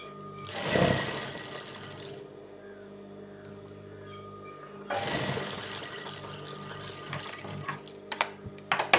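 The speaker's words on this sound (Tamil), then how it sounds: "அப்படி திருப்பி இடை வச்சு தையல் போட்டுருங்க" A sewing machine stitches fabric for a semi Patiala pant, with a loud burst early, a lower steady hum through the middle, a second run of stitching and a few sharp clicks near the end.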